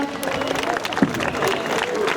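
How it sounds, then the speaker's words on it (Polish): A school audience at the 2011 Skierniewice Flower, Fruit and Vegetable Festival applauds outdoors; a brief patch of steady clapping runs under voices and background chatter. "I brawa oczywiście."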